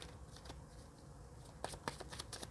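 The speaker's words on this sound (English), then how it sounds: "when I shuffle these cards, man, these were made to be shuffled" A deck of playing cards being shuffled up close, soft riffling followed by several sharp flicking bursts and snaps in quick succession, fairly quiet, with no one talking.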